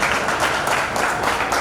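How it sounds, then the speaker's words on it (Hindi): Applause from an event crowd for Ritesh Bora, a steady dense patter of many hands clapping that holds at even loudness throughout, with no talk over it. "तो रितेश बोरा के लिए जोरदार तालियां।"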